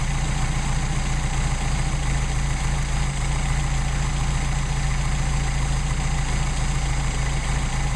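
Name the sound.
car engine idling, carburetors adjusted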